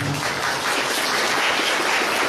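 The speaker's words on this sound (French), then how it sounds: "Je suis content de tout applaudir." Dense, steady applause from a crowd at an Eid celebration in Plaine Verte, a loud continuous wash of many hands clapping together.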